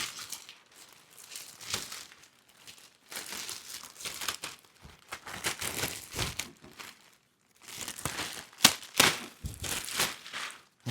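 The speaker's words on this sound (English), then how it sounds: "let's cut the bag out of the way." Plastic packaging bag on a mountain bike cargo trailer being cut and pulled away, close crinkling and rustling in bursts with short pauses between.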